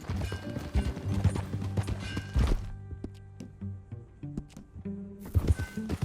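Horse hooves clip-clop in Red Dead Redemption 2 as riders travel together, a steady uneven patter of hoof strikes at moderate distance with a brief lull midway before resuming.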